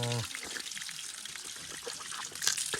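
Cold water trickles and flows softly and continuously in a village near Hetauda, faint and close, with no voices.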